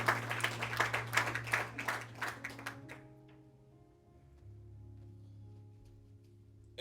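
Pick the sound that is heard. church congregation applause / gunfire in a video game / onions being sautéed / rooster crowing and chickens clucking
church congregation applause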